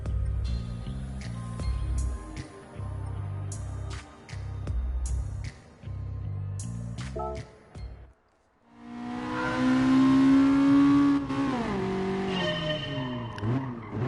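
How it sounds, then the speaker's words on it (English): A 1966 Honda S800 in the racing game GT Sport: the small engine's gear-stepped buzzing rev comes first, then a short lull, then a long loud high-pitched rev that rises and wavers. "We're in the little Honda S800 from the year 1966."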